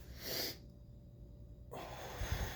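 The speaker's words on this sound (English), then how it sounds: "breathe in and out several times" Breathing in and out through the nose during a breathing exercise: a sharp forceful nasal breath near the start, a short pause, then a longer airy breath close by, with no talk.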